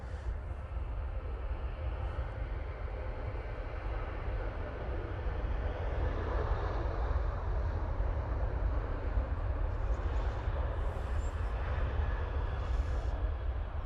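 A Ryanair jet arriving from Eindhoven touches down at Manchester Airport, a broad, steady engine roar heard from a distance that holds level throughout with no voices over it.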